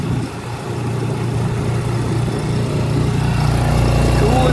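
A Suzuki DF6A 6hp outboard motor runs at speed on a boat, giving a loud, continuous, close buzzing drone that climbs slightly as the throttle opens.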